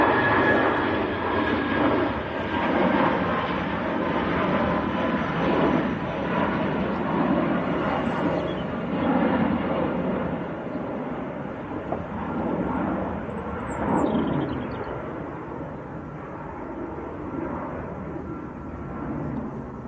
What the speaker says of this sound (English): Airbus A319.